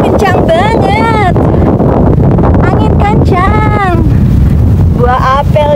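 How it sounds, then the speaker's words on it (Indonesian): Strong wind buffets the microphone in a steady roar while a person talks over it with bright, animated speech. "Anginnya kencang banget."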